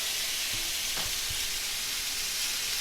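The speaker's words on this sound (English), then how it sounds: "I want the chicken on the pan because it hasn't cooked yet" Chicken sizzling in a hot pan with garlic and aromatics for basil chicken, a loud, dense, continuous frying hiss with a few soft thumps of stirring or contact against the pan.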